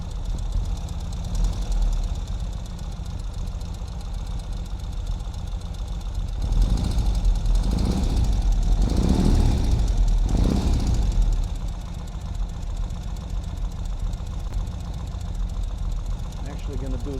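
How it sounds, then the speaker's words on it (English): A 2021 Ural motorcycle engine idles steadily with a low rumble, recorded near the exhaust, then revs up for a few seconds before settling back to idle. "Let's rev up the exhaust a little bit, rev up the engine and listen to the exhaust."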